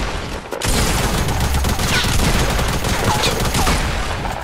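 Rapid sustained gunfire in the Fortnite video game, a dense loud barrage of overlapping shots after a brief pause, continuing steadily for several seconds.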